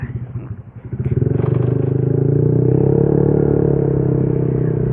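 A motorcycle engine idles with a rough, throbbing exhaust note from its aftermarket exhaust, then rises to a steady, loud rumble close by.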